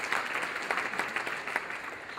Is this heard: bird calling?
no